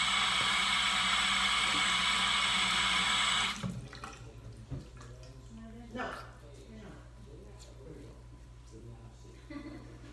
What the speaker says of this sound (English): I have to turn on the water again and use this towel